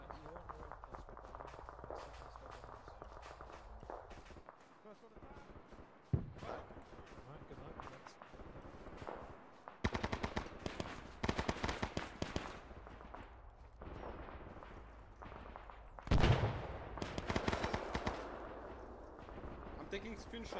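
Heavy gunfire and explosions from a D-Day World War II shooter video game, with repeated shots, sharp bursts and loud blasts around the middle and near the end, under intermittent talk.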